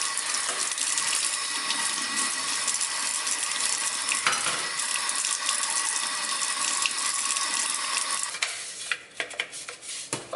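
Tap water runs steadily into a sink as barber tools are rinsed of soap after disinfecting, a bright continuous splashing stream with light clinks of metal before the flow breaks up near the end.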